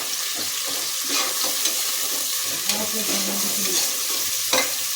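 Pulao being stirred and fried in a pan with coconut added, a steady sizzle under repeated scraping and stirring strokes, close and alone without talk.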